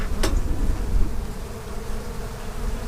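Honey bees buzz around an open hive during a spring inspection, a dense steady drone close to the microphone with a little wind noise and one sharp brief sound near the start.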